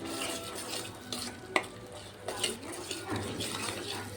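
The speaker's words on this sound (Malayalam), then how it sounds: "ഉപ്പിട്ട് കൊടുത്തിട്ട് നന്നായിട്ടൊന്ന് ഇളക്കി യോജിപ്പിക്കാം" Mango pickle mixed with vinegar and salt is stirred in a pot, soft wet scraping and occasional clinks of the spoon against the vessel, quiet and close with faint background hiss.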